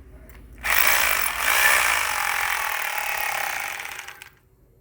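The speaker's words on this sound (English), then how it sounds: "we have to drill a hole in this fashion" Power drill with a 12 mm bit boring a 20 cm deep hole at an angle into a coconut palm trunk, a steady close whirring grind that starts abruptly, swells briefly, then runs evenly for several seconds before cutting off.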